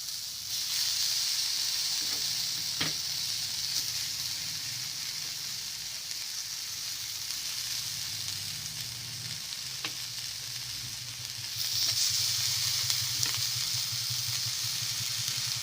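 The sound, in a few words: fish frying in oil in a pan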